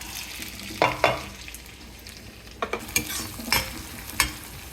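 About ten shallots and a whole garlic bulb crushed with its skin fry in oil for chicken chukka, a close steady sizzle punctuated by a handful of sharp scrape-and-clank stirring hits against the pan.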